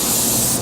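A spray paint gun hisses in a steady, even burst of atomized paint, loud and close, with no voices.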